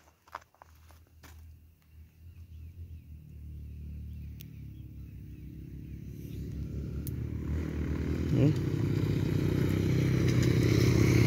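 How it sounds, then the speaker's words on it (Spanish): A motorcycle engine approaches and grows steadily louder over several seconds, a low droning rumble building toward a close pass, with a few clatters early on. "Ahí viene otra moto."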